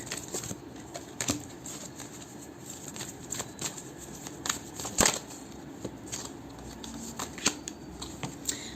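Cards being shuffled and riffled close up, a steady papery patter with sharper snaps now and then, no voices.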